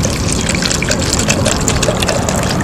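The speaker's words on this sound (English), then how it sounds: "just fill up with the sugar water solution." Sugar water solution poured into a yeast trap container, a close, steady gushing and trickling of liquid filling the vessel without pause for a few seconds.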